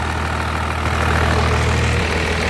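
A Cummins 5.9 diesel engine idles roughly and unevenly, a steady close low rumble with a knocking pulse that swells slightly partway through.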